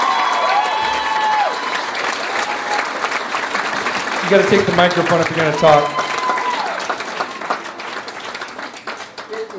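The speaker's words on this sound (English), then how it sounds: "give her a round of applause" Audience at a charity benefit show applauds steadily with claps, cheers and crowd noise throughout, while people talk over it near a microphone.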